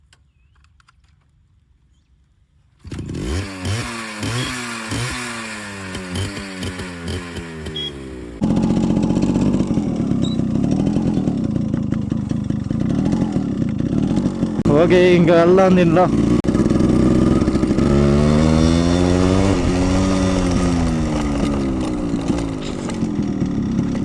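A Yamaha RX100 motorcycle being ridden, its engine loud and close, revving with pitch rising and falling through the gears; someone speaks briefly as it gets going.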